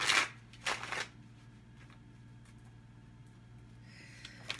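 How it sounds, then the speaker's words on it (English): Tarot cards being shuffled by hand in two quick riffling bursts close by, then near silence with faint handling noise and a soft flutter near the end. "Let me give these one more shuffle."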